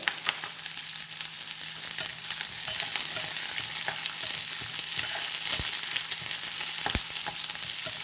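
Onions fry in oil after cinnamon, giving a continuous hissing sizzle up close with scattered sharp taps of a spoon stirring the pan.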